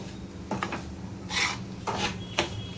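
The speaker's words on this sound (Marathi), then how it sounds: "छान असा रवा आपण त्या तुपामध्ये भाजून घ्यायचा आहे" Semolina being roasted in ghee in a pan gives close, intermittent scraping and rasping from the stirring spoon, in several short strokes over a quiet background.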